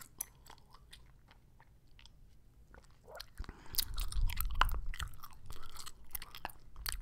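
Gum chewed close to the mic in a soft, whisper-quiet setting, with wet smacks and clicks in a steady rhythm that grow louder and denser toward the middle.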